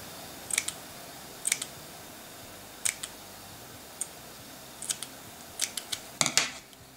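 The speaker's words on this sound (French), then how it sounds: "nous allons découper tous les fils qui traînent et qu'on n'a plus besoin" Scissors trim loose threads from a sewn fabric hair headband, about a dozen short crisp snips spaced irregularly and clustering toward the end, close over a quiet background with no talk.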